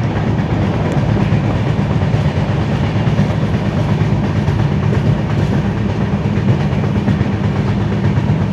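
A passenger train out of Puri rolls along the rails at night, a loud, steady rumble with rhythmic clickety-clack heard from inside the carriage.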